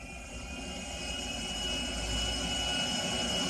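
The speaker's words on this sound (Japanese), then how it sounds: "ジャンボジェット機ね。" A steady, roaring jumbo jet engine drone in Grand Theft Auto V, with a high whine, continuous and fairly loud throughout.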